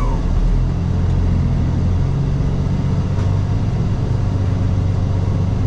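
A saltwater truck approaches at a truck stop with a steady, loud, low engine rumble that fills the whole stretch, no voices over it.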